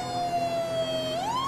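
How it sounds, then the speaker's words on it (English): Police car siren from the FiveM game, a steady sustained wail that holds one pitch and then sweeps upward near the end, loud and continuous with a faint low rumble beneath. "This is actually the siren that the game has"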